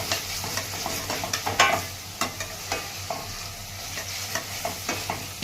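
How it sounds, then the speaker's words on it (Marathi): Turmeric and coriander powder masala frying in a pan, a soft continuous sizzle broken by frequent scraping, clinking stirs of a spoon against the pan over a low steady hum, with no voices. "हळद धना पावडर टाकायची छान हे मिक्स करून घेते"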